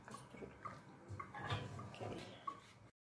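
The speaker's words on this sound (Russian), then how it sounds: "Сливаем лапшечку через дуршлаг" Boiled noodles drain through a colander in a kitchen, with quiet splashing bursts of water and a few drips that stop abruptly at the end.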